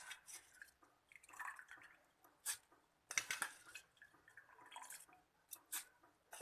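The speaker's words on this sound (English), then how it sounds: "Now I am adding soaked rice." Soaked rice tipped into a big bowl for ragi dosa batter makes quiet, wet, scattered patters and drips in uneven bursts with short pauses, close and faint.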